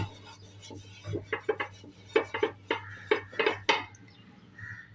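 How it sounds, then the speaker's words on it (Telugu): A cut half onion rubbed over a hot oiled dosa pan, giving a run of scraping and rubbing strokes with light clinks of the pan, fairly close and moderately loud, no talk over it. "సగానికి కట్ చేసుకున్న ఆనియన్ తీసుకొని అంతా స్ప్రెడ్ చేయాలి"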